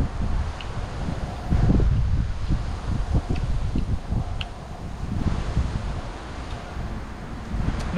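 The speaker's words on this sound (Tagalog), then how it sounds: "Medyo malakas lamang po ang hangin" Strong wind blows outdoors while a pot hangs at a fishing spot, a steady rushing roar with gusts buffeting the microphone and faint rustling, no voices.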